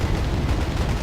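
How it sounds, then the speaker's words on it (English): Artillery fire from NATO forces in the video game Wargame: AirLand Battle, a loud, dense burst of rumbling booms packed into a single second. "artillery coming in from the NATO player, it looks like"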